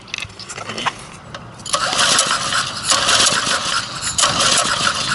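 A small engine on a homemade mini bike is started with the choke after sitting unused for a long time, coughing in short bursts before catching into loud, uneven revving that surges and dips.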